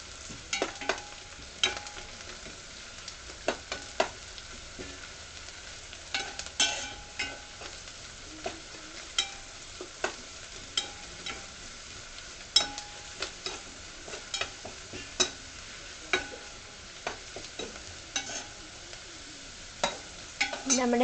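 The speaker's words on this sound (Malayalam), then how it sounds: "അതുകൊണ്ട് ഒരു മീഡിയം ഫ്ലെയിമിൽ നമ്മളിങ്ങനെ വഴറ്റിയെടുക്കാം." Ginger and garlic sauté on medium flame in a pan for Kerala-style amla pickle, a soft steady sizzle broken by regular clinks and scrapes of a spoon stirring, fairly quiet and with no talking.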